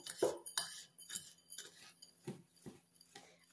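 Dill and Fjord salt being mixed in a dish, a series of light clinks and taps of a utensil against the dish in an irregular rhythm, close and quiet, with no talk.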